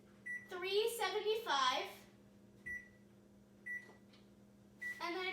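A kitchen oven beeping as it is set to preheat, with short single electronic tones repeated at intervals, close and clear, while a person speaks between the beeps.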